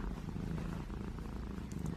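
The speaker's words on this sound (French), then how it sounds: "Vous l'entendez ronronner?" A cat purrs continuously up close, a low rhythmic rumbling that fills the short moment with no other sounds.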